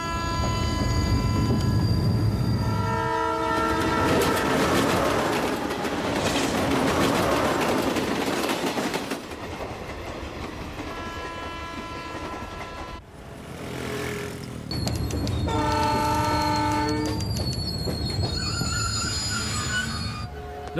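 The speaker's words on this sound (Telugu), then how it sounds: "ఈ తుక్కులో ట్రైన్ ఒకటి తొందరగా వెళ్తే బాగుంది." A passenger express train rolls along the rails nearby, a loud, steady rumble with rhythmic clickety-clack of wheels over joints, metallic squeals and sustained tonal whines from the cars passing.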